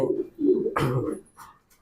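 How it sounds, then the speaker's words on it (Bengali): Fancy pigeons at a pigeon farm give a few low, soft coos close by, with brief pauses between the calls. "অনেক কবুতর"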